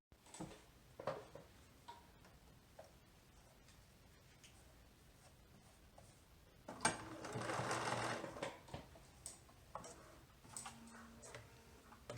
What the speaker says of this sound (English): I'm going to go ahead and top stitch these